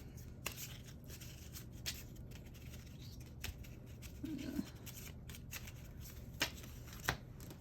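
Small paper cards being shuffled and mixed by hand, a quiet soft rustle with a few sharper flicks and taps, heard close up alone.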